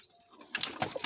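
Pigeons at a home loft, including an old male, give a few soft, close coos and low murmurs over a quiet background, with a brief rustle of wings.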